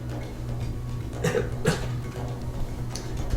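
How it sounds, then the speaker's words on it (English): A man coughs briefly during a Dark Sun tabletop roleplaying session, two short muffled bursts close together over a steady low room hum, with no other sound around them. "He coughed for a brief second of coughing."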